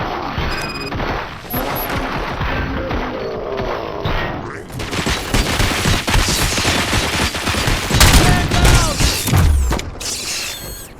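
Heavy automatic gunfire in the RoboCop: Rogue City video game, loud sustained bursts with mechanical clanks and crashes, building to an intense barrage mid-clip with a deep boom near the end.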